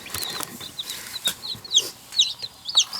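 Newly arrived chicks, just picked up from the post office, peep in quick, high, bright chirps. The chirps come in scattered bursts over a soft background hiss, close to the listener.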